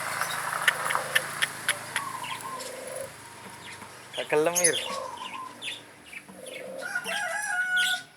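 A zebra dove (perkutut) repeats short cooing notes among sharp clicks and other bird calls, fairly faint, with a voice briefly speaking.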